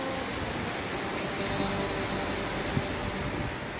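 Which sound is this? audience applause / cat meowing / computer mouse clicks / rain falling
rain falling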